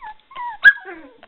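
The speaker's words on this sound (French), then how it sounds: "le fait d'aboyer ça les fait reculer" Young dogs giving short yips and barks, a couple of brief whining calls and one sharper bark, close and moderately loud.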